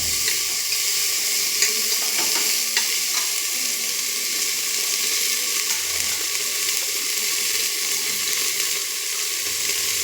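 Chopped tomato stirred and frying in a hot pan, a steady bright sizzle throughout with occasional spoon scrapes and clinks, close and continuous with no talking.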